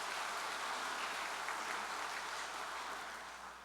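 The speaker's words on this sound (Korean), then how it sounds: "존경과 감사의 박수를 한 번 더 올려주시면 고맙겠습니다." A hall audience at an anniversary ceremony applauds elder officials, a steady wash of clapping heard at a distance, fading slightly at the end.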